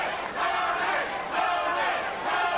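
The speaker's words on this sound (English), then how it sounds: "You can hear his corner chanting his name." At a boxing match featuring Tony Martin against Julio Cesar Chavez, Martin's corner chants his name in rhythmic, repeated crowd shouts that rise and fall in waves, loud and continuous across the arena.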